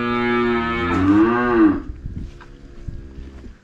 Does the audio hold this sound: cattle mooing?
yes